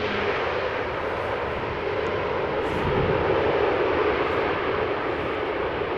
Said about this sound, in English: Top Air Portugal A320 Neo. Flight 670 arriving from Lisbon after 2 hours and 17 minutes of flight